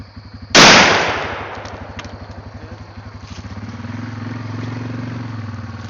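A single close, loud gunshot at a hog during a night hunt cracks sharply and decays over a couple of seconds, with a steady rumbling engine idling underneath throughout.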